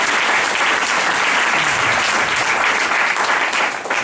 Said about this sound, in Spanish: Quiero dar un aplauso, Señor, por eso